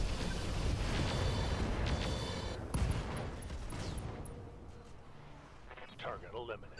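Mech weapons firing in the RogueTech BattleTech video game, a loud dense volley of booming shots and explosions that rumbles on and fades, followed by fainter radio-style chatter.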